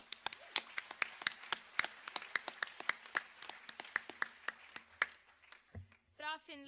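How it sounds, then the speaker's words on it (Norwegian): Applause at a Nordic Council Film Prize ceremony, a run of sparse, distinct hand claps in an uneven rhythm, close and fairly quiet, with a voice starting to speak at the end. "men de fortjener en applaus, så ja."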